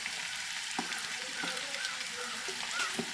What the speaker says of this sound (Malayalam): അപ്പോൾ എന്നിട്ട് അത് ചെറുങ്ങനൊന്ന് തിളക്കുമ്പോൾ ഉള്ളി ഇട്ട് കൊടുക്കുക